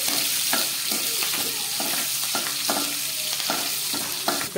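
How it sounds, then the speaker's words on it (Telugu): Cumin seeds and green chilies frying in hot oil in a kadai, a steady loud sizzle with repeated scraping strokes of a spatula stirring throughout. "కడాయిలో ఆయిల్ వేసి కాగాక కొద్దిగా జీలకర్ర, పచ్చిమిర్చి వేసి బాగా ఫ్రై చేసుకోవాలి"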